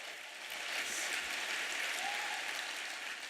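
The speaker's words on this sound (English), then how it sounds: "Can we give a round of applause to each and everyone here?" An audience at a talk on customer acquisition applauds its team, a soft, dense, steady wash of many hands clapping, distant and faint throughout.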